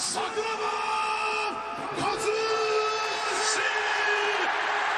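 A fight-event crowd at Pride 17 cheers, whoops and yells in a loud, sustained roar, with a commentator talking over it throughout.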